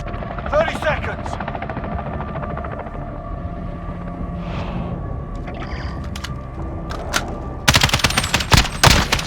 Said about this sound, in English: Enemy chopper gunner on approach